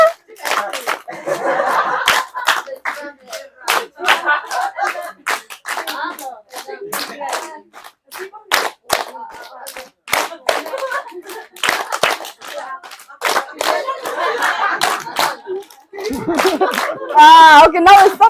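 Children at a Sunday School in a Burmese refugee camp clapping in sharp, irregular bursts, near and loud, mixed with kids chattering and laughing throughout.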